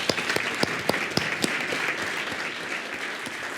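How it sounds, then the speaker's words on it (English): Conference audience applauding Al Adamsen, a dense round of clapping with several loud, close individual claps punctuating the first half before settling into an even, sustained patter. "Firstly, I think Al deserves a round of applause"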